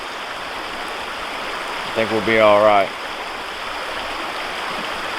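Water flowing steadily through a 3-foot gold sluice box in a stream, a constant rushing wash, with someone briefly speaking over it midway.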